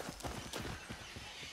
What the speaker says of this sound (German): Das Zebra flüchtet.